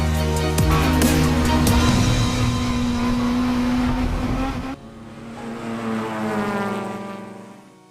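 Hot hatch race cars at Silverstone's International circuit roar past in a loud, sustained engine drone that drops abruptly, then continues as a fainter, more distant hum.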